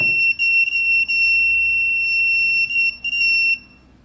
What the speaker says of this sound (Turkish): Baktığı zaman devamlı bu sinyali alıyorsunuz.